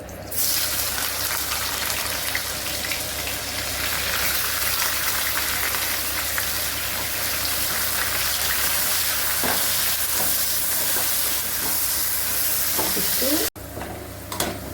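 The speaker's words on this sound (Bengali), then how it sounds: "তেলটার মধ্যে আমি এখন বেরেস্তা ভাজা করে নেব" Onions frying in oil for birista, the browned onion garnish for katha biryani, give a steady, loud sizzle with occasional stirring scrapes throughout, a brief break near the end.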